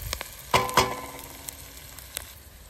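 Onions fry in a pan over a camp stove at an outdoor breakfast, with garlic to follow. A soft, steady sizzle sits under two sharp metallic clinks early on and a few lighter taps later.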